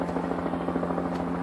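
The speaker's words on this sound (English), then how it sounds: "And hear chopper in the distance," A helicopter flies somewhere in the distance over wooded ground, heard as a steady, even rotor drone that holds without a break at a moderate level.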